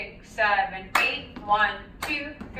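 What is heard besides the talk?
hand clap in solo jazz Boogie Back step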